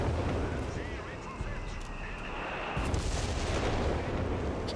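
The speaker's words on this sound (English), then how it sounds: "that was a air support center dive bomb from Oath" Dive bomb explosions from an air support strike in the game Company of Heroes 3, a constant loud rumble of blasts and heavy booms with no clear breaks.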